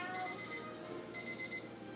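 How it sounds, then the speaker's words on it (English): A kitchen timer beeps during home brewing of an oatmeal stout on a gas stove, sounding two bursts of rapid, shrill electronic chirps about a second apart, fairly loud and alone. "Okay, there goes my timer."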